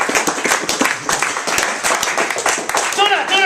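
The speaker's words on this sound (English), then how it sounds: "So please, give a nice round of applause." Audience applause at a poetry reading, a dense run of hand claps from a crowd with a speaker's voice talking over it near the end.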